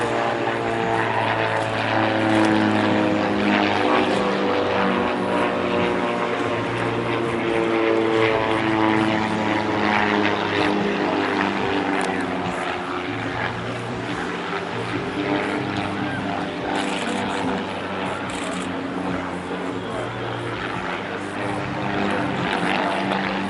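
Twister aerobatic propeller planes flying at the Bournemouth Air Festival, a steady loud engine drone with droning harmonics that sustains throughout, slightly easing toward the end, with a voice talking faintly beneath it.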